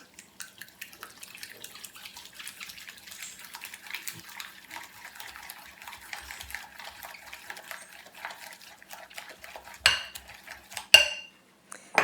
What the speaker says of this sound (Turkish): Evet içerisine bir tane yumurta ekliyorum. Bunu da birazcık çırpıyorum şimdi.